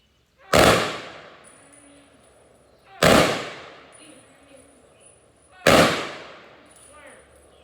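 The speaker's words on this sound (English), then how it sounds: "We'll now be firing 3 volleys," Three ceremonial rifle volleys fired at a funeral, each a sharp, loud crack with a long echoing tail, spaced about two and a half seconds apart outdoors.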